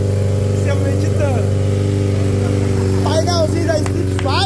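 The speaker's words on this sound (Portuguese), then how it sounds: "Escapamento tão bravo, GRS" A 600cc motorcycle fitted with a loud GRS titanium exhaust idles steadily nearby, its deep engine tone running throughout under people talking.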